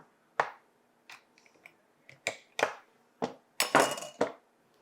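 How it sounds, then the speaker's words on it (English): Small tin cans of tuna tap and clink against a little metal strainer over a bowl while being drained, giving sharp, separate knocks at an irregular pace, close and fairly quiet. "we're going to open up the cans, and then we're going to drain them and place them into a medium bowl"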